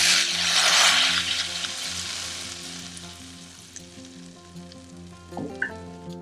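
Red chili flakes tempering in hot oil for a curry pakora kadhi, a loud burst of sizzling that gradually fades into a softer hiss, with a few spoon clinks near the end.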